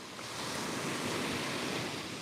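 Ocean surf breaking at a beach, a steady broadband wash of rolling waves with some wind noise on the microphone, close and continuous throughout, no voices.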